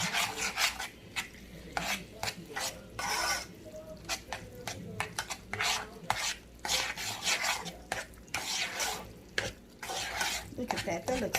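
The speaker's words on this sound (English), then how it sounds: "take my spoon and then just go into mixing it till all of it is melted and combined" A spoon scrapes and stirs through melting macaroni and cheese in a pot, repeated rasping strokes in an uneven rhythm, close and fairly quiet.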